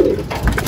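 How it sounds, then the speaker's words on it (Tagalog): Pigeons of a racing loft, red check and blue bar birds, give a low soft coo up close in a brief burst with no one talking. "So pakita natin yung mga kalapati natin."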